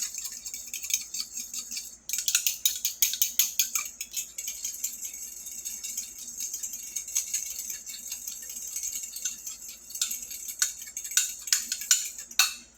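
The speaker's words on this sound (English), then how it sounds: "I'm just going to whisk them up a little bit" Two eggs whisked in a bowl with rapid, clattering strokes that start after a brief pause and continue in dense, uneven bursts at close range, no voices present.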